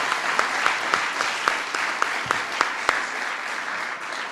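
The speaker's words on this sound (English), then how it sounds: "The reason everybody's applauding is because they've heard him say that every day." Room-filling applause during a presidential White House announcement naming William M. Daley chief of staff, a steady wash of clapping studded with a few sharper individual claps, fairly close and loud with no voices on top.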